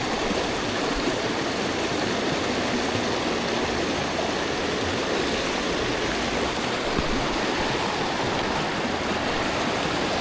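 Swift-flowing trout stream, a steady, full rush of water close by, churning evenly without a break, with no voices over it.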